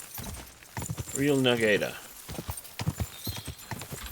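Horse hooves clip-clopping in Kingdom Come Deliverance 2, a brisk rhythmic trot of close, distinct hoofbeats with a brief neigh, while someone talks over it.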